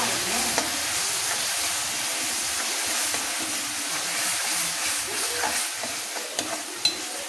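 Onions and tomatoes sizzle in a pan for black-eyed pea kara kuzhambu, a steady close frying hiss with occasional stirring scrapes and soft pops.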